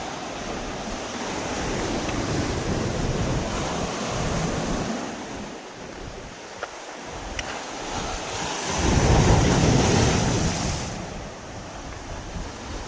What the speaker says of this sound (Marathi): आपली लाट आलेली आता बघा